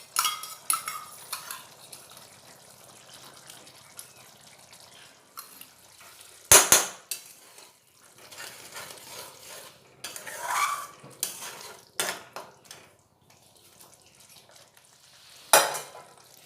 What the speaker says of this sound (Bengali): এবারে মশলাটা খুব ভালোভাবে কষিয়ে নেব।